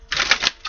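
Deck of cards riffled in a quick shuffle, a brief crisp flutter of rapid clicking bursts, close and dry, ending within a second.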